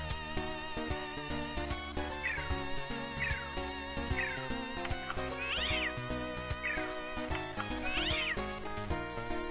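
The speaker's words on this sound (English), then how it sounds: "she does have animal companions, such as Manny Meow there" A repeated cat meow voice sample from a character in a Mega Man fan game bakery level, short meows and a drawn-out caterwaul, heard several times over busy, loud chiptune music.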